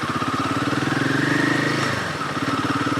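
A motorcycle engine hums steadily at mid range on a mountain road in the Spiti Valley, growing slightly louder and then easing, with no talk over it.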